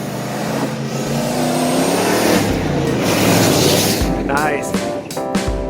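A 1995 Ford F-150 with TTB suspension and old Bronco wheels charges fast across a dirt road at an off-road wheeling park, engine roaring loud and steady before revving and dropping off, with people talking over it.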